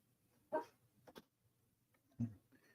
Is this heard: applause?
no